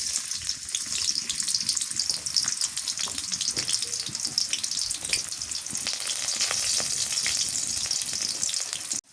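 Chopped onion frying in hot soybean oil, a loud continuous hiss and crackle that runs unbroken for the whole stretch before cutting off abruptly.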